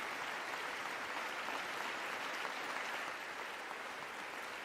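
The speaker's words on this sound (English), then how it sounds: "Actually, I'm going to clap for that" Faint, continuous clapping from a crowd during a State of the Union broadcast, a distant, even roar of many hands that stays low in level throughout.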